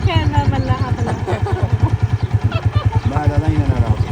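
A motorcycle engine thumps in a steady, pulsing rhythm close by while people talk over it.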